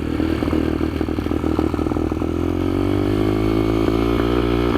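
A heavily modified Kayo MR125 motorcycle rides a kart track, its mid-pitched engine running steadily loud and close throughout with rhythmic clattering and a rising rev toward the end, no voices over it.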